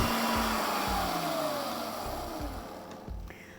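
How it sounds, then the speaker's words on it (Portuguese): A stand mixer runs at medium speed while cream is added to a chocolate-chip cake batter, giving a steady motor whine with a pitch that slowly drifts down and a regular thumping rhythm from the beater. "Vamos acrescentar agora o creme de leite com a batedeira ligada na velocidade média"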